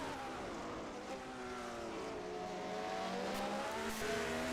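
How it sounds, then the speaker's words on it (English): Open-wheel racing car from a 1971 international spring trophy race howls at high, over-revved pitch, the engine note rising and holding steadily, loud and alone. "Although he's over-revving his engine there, he wants to be careful."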